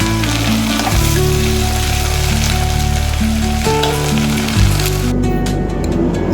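Spiced vegetables with salt, chutney, garam masala and turmeric sizzle loudly in a pan for a soybean veg pulao, a dense close frying hiss that runs throughout, with a low tonal hum underneath and no talking.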